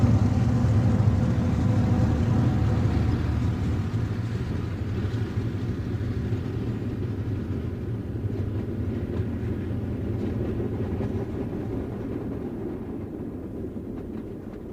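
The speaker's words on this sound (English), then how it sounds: "Cutting through the afternoon glare at Gary, Indiana, is train number 48" Pennsylvania Railroad passenger train number 48, the General, rolls past at Gary, Indiana, a loud steady low rumble of wheels and cars that slowly fades over about fifteen seconds, with no voices.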